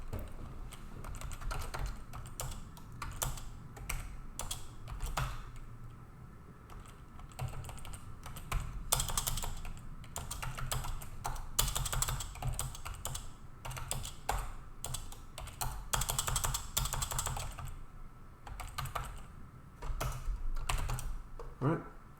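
Steady, irregular clicking of keys on a computer keyboard, close by and continuous, with brief pauses and faint room noise underneath.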